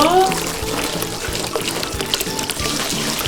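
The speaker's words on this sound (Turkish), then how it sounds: "Şimdi döküyorum suyumuzu." Water poured into a small toy pool, giving a steady continuous splashing and trickling wash at close range throughout.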